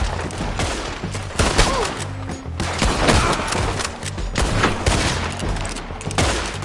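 Dense, continuous gunfire from a Red Dead Redemption 2 shootout on PS4, rapid overlapping shots and booming cracks filling the whole stretch at steady loudness, with no gaps between volleys.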